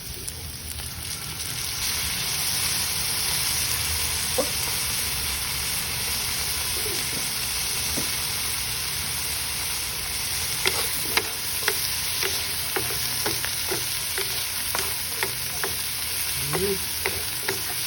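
Sayote, kangkong and pork sautéing in a pan: a steady, loud sizzle and hiss throughout, with scattered clicks and scrapes of stirring in the later half.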